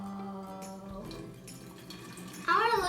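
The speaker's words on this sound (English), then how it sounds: "we're going to put our half cup of water in there" Half a cup of water is poured into a bottle for a dirt volcano made with kids; a quiet, brief trickle and splash ends with a louder gurgling burst near the end.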